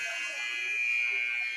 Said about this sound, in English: That buzzer has sounded better.